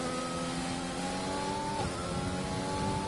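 Race car engine from a racing video game at the British Grand Prix, a steady loud droning whine with a pitch sweep as a car passes, continuous over about three seconds with no talk.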